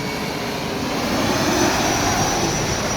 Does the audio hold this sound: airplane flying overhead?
yes